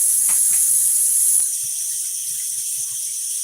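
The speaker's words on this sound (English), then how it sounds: "I'm gonna wash my hands again." Tap water runs at a sink during handwashing, a steady close hiss with faint splashing that softens slightly after about a second and a half, with no talking.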